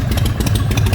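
Stone-cold Shovelhead motorcycle engine idling lumpy with no air filter fitted, a close, loud, uneven rhythmic chugging with clattering pulses.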